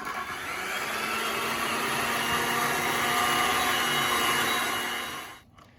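An electric mixer whips cream in a steady, loud whirring drone that swells slightly and then cuts off abruptly near the end.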